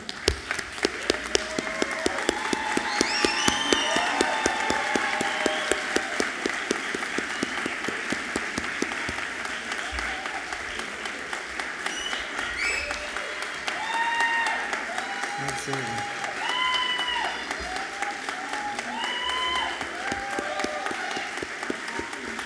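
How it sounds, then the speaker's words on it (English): A crowd gives a long, steady round of applause for graduates at a stole ceremony, with dense clapping sustained throughout and scattered cheers and voices mixed in. "give you one big round of applause"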